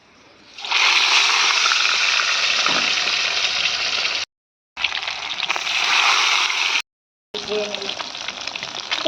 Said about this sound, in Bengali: তো এই যে কড়ার মধ্যে দিয়ে দিয়েছি তেল। এই যে মাছ ভাজবো।